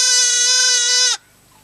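A single farm goat lets out one long, loud, strained bleat at close range, holding steady for about a second before cutting off abruptly into near silence.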